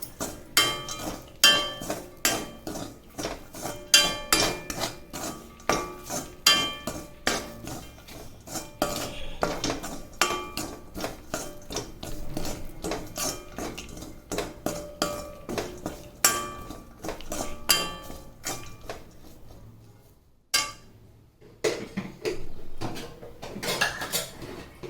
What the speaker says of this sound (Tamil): இப்போ இது எல்லாத்தையும் சேர்த்து கலரி விட்டுட்டு ஸ்டவ் ஆஃப் பண்ணிடலாம்.